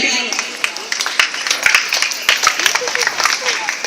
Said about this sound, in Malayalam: എല്ലാവരും കൈയടിച്ച് പ്രോത്സാഹിപ്പിച്ചു